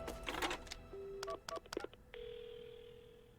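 Phone dialing in the horror game Paranormasight: a burst of short keypad tones, a couple of steady beeps, then a sustained dial tone holding alone to the end.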